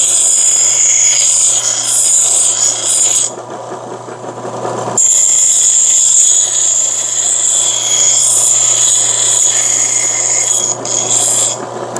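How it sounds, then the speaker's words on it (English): An angle grinder strips paint and rust from metal, a loud continuous rasping whine with one brief drop in the middle before it resumes, then slight dips near the end. "So the grinder's on this side."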